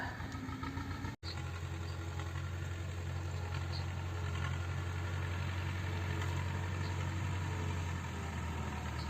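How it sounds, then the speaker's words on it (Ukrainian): A tractor engine plowing a field near a fishing spot in October, a steady low droning rumble that runs continuously at moderate distance, with a brief dropout near the start. "десь взявся на мою голову отой трактор, і тут вже їздить дві години"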